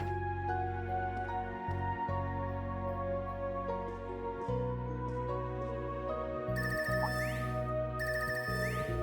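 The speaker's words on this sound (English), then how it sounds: "This ringtone, I haven't heard this before." A phone ringtone from the video game Trails of Cold Steel III plays as a repeating electronic melody over soft background game music, with an incoming-call chime entering near the end.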